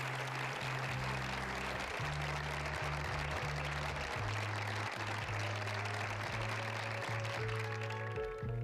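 A television talk show audience in a 1982 studio applauds in a continuous, even wash of clapping that runs throughout at a moderate, somewhat distant level, over a low steady hum.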